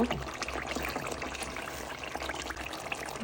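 Water poured into a pot of chicken curry with potatoes being simmered, a steady close splashing pour lasting throughout with no talking.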